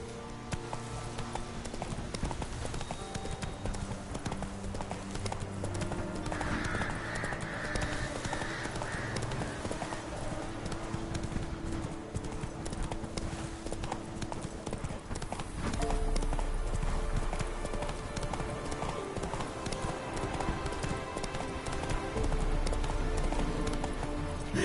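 Horse galloping across open country in The Witcher 3, a fast continuous drumming of hoofbeats with occasional snorts, heard over background game music and ambience.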